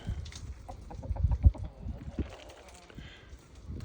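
Hens on a farm give soft, short clucks and scratchy rustles at close range, irregular and brief, with a louder cluster of sounds in the middle.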